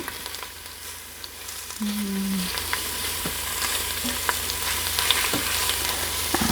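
Food browns in garlic-infused oil in a pan, a constant close hissing sizzle that grows a little louder partway through, with scattered light taps and clicks of a utensil.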